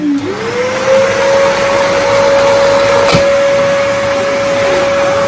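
A Henry Turbo 160 vacuum cleaner runs steadily and close by, its motor whine holding constant apart from one brief knock partway through.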